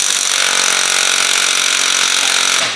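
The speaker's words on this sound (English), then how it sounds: "use the impact to try to loosen that nut" An impact wrench hammers at the front sprocket nut of a Yamaha R1 motorcycle, a loud, continuous rattling burst that runs for nearly three seconds before trailing off.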